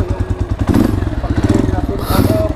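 A Rusi KRY 150cc motorcycle climbs uphill with a close, throbbing engine and low thumps and clatter, while a rider talks over it.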